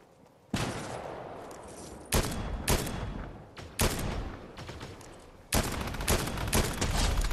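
Loud gunfire in the video game Fortnite, several sharp shots and short bursts with noisy reverberant tails between them, close and dense, no voices.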